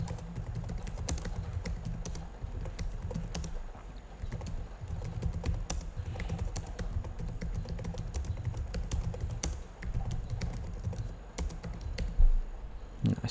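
Keys clatter steadily on a computer keyboard while a form entry is edited, a fast, uneven run of close, crisp clicks that continues throughout with no talking.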